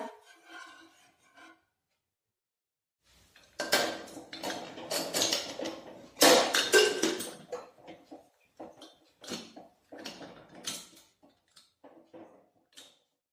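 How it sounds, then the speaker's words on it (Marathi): A metal pressure cooker lid is fitted onto the cooker of toor dal, giving a series of sharp clanks, scrapes and rattles in close, irregular bursts with brief quiet gaps between them. "आता आपण कुकरचे झाकण लावून घेऊया।"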